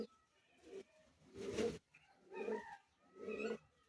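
Pigeons on a Bangladeshi pigeon farm coo in three or four low, throaty bursts close by, separated by short quiet gaps.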